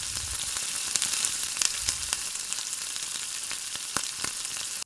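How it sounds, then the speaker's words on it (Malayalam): Sunflower oil and ghee sizzling steadily in a hot pan, a dense, even hiss with scattered small pops and crackles, close and continuous throughout. "അതിലേക്ക് 2 ടേബിൾ സ്പൂൺ സൺഫ്ലവർ ഓയിലും 1 ടേബിൾ സ്പൂൺ നെയ്യും കൂടി ചേർത്ത് കൊടുക്കുക"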